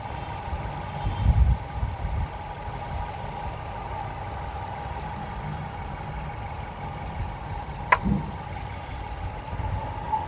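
A 2017 Maruti Ertiga VXI with about 59,000 km idles with a steady, even hum, with one sharp click near the end and no talking.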